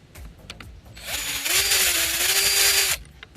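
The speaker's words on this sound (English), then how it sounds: "use my power tool to take the screws off" A cordless power drill-driver whirs steadily for about two seconds, spinning loose screws during a power pedal kit installation, loud and close with no talking.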